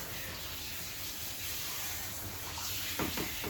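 Running water sprays steadily as shampoo is rinsed off a Shih Tzu during grooming, a continuous close hiss that shifts slightly near the end, with no voices.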